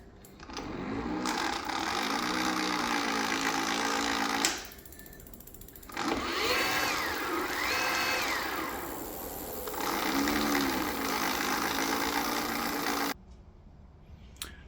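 A faulty CYC Photon e-bike motor runs with a loud steady whine that cuts out briefly, then returns with wavering, rising and falling pitch before stopping abruptly.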